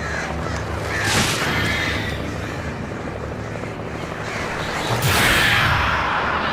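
Crows cawing harshly in the Alan Wake video game as birds swarm to attack, two loud raspy bursts over a steady low rumble of game ambience.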